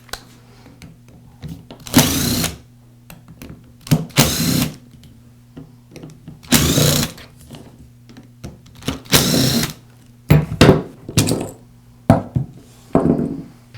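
The four gearbox housing screws come out of a Makita angle grinder. Short, loud whirring bursts of a driver repeat at uneven intervals over a low steady hum, with quiet handling noises in the pauses.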